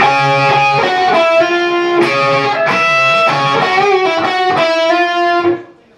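Distorted electric guitar playing the second measure of a guitar solo, a fast bluesy run of bends and repeated notes, loud and sustained before cutting off at the end.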